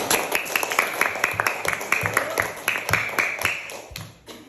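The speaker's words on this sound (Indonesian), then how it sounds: "tepuk tangan dulu untuk kelompok 2." Children in a classroom clap for a group of classmates, a brisk, slightly uneven patter of many small hands lasting several seconds at moderate loudness, with a faint voice mixed in.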